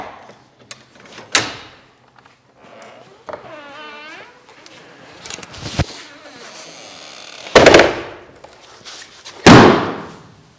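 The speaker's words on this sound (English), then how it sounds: "Let's open up the doors." Doors opened at a booth space, with several sharp metallic bangs and clunks spread across the stretch, some creaking and scraping between them and a brief voice, loud and close.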